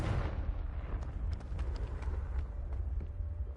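A Confringo fire-blast spell from Hogwarts Legacy erupts into a loud, rumbling roar with scattered crackles, holding steady for a few seconds with no voices.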